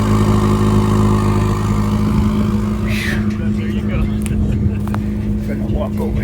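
A car with four exhaust pipes in the middle idles at a Cars and Coffee meet in Wheeling, Illinois, giving a loud, steady droning engine note. Voices talk over it.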